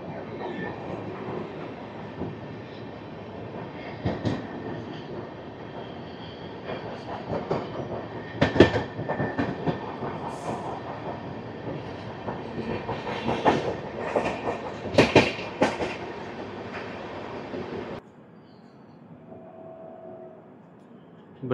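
A special passenger train runs along the rails near Krishna Canal Junction, its wheels giving a steady rumble with sharp clacks and bursts at rail joints, close and sustained before dropping away to quiet near the end.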